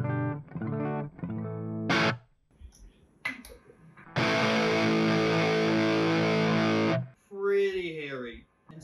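Electric guitar through the rat distortion circuit of an EarthQuaker Devices Life pedal, set to symmetrical clipping: a few gritty picked notes, then a loud, hairy distorted chord held for about three seconds before cutting off.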